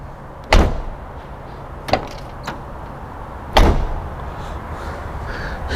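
A door on a Mazda FD RX-7 sports car slams shut with a hard, close thud, followed by a smaller knock and another forceful slam over low background rumble, with no speech.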